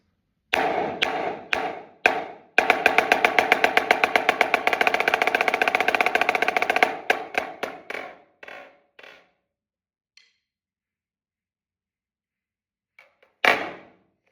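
A snare drum plays sharp separate strikes, then a long, dense buzz roll lasting several seconds, followed by scattered hits tapering off into near silence and one final strike.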